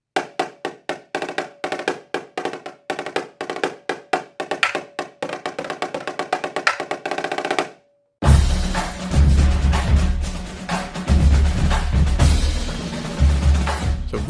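A real drumline plays the intro from the Vice Principals soundtrack, first with crisp rapid snare strikes in a driving pattern, then after a brief gap the full line comes in with loud booming bass drums under dense snare rolls.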